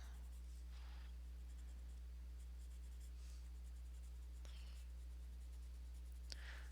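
A sharpened pencil scratches and strokes across paper while fine hair detail is drawn, a soft, steady dry rasp with a few brief flicks, faint and close over a low constant hum.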